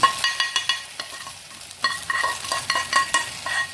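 Quick metallic stirring and clinks in a pan over a light sizzle of tempering spices frying in oil for an orange-peel gojju, close and fairly loud, in short bursts.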